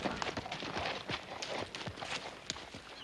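Horse hooves clip-clopping in an old Western setting: a faint, uneven series of hollow knocks and scuffs, a few sharper strikes among softer steps, under a quiet background.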